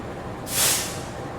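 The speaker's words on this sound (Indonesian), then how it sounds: "lokomotifnya udah mulai terpasang" A locomotive being coupled to an Indonesian economy-class extra train lets out one loud, sharp hiss of air that swells and fades within about half a second, over a quiet background.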